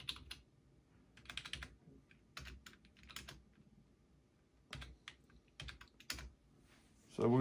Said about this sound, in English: So what you do is you're gonna click Alt Control Delete